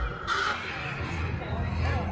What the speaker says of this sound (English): a baby crow, which is an animatronic